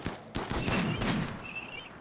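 Gunfire in the video game RimWorld comes as a quick burst of several sharp shots within two seconds, close and fairly loud, with a faint tonal game sound trailing behind.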